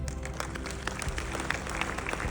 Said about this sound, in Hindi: और आपकी तालियां चाहूंगा।